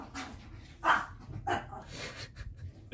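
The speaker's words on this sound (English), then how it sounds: "My dog and my cat just got into a tussle." A household dog gives a few short barks and yips during a brief scuffle with a cat, sharp bursts spaced unevenly across a few seconds, fairly close, with no talking.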